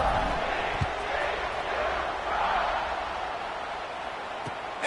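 A football stadium crowd roars in a broad, sustained wash of cheering following a touchdown drive, fairly loud and continuous, with a play-by-play announcer's voice heard over it.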